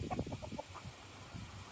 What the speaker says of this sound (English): I thought we were done chasing chickens on the other side of the fence.